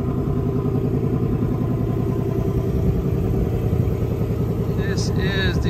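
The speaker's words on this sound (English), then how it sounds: "the iconic sound of the 5-liter engine" A 2024 Ford Mustang GT with its 5-liter V8 runs with a steady, deep rumbling idle, loud and close throughout, with a brief faint chirp near the end.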